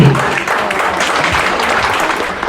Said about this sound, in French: On applaudit la candidate numéro 7